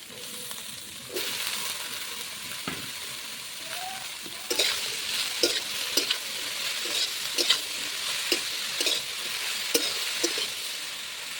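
Ridge gourd tipped into a pan of frying onions, a steady close sizzle with scraping stirs and a spatula knocking against the pan at irregular intervals, no voices.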